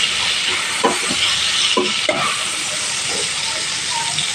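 Potatoes sizzling in hot oil in a pan, a loud, steady frying hiss with a few faint clinks of stirring.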